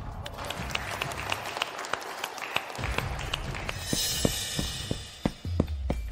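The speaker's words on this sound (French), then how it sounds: "Applaudissons tous chaleureusement" Wedding guests clap to greet the groom, the claps scattered and uneven rather than a dense ovation, over a low hum and a steady background tone, thinning near the end.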